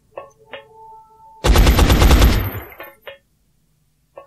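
Video game gunfire in X-COM Enemy Unknown: a few soft interface blips, then a loud, close burst of rapid automatic fire lasting about a second, followed by more short electronic tones.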